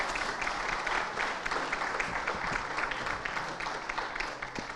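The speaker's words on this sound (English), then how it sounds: "a huge round of applause" Audience applause in a hall at the final session of the Foresight 2023 conference, steady rapid clapping from many hands that stays even for nearly five seconds and fades a little toward the end.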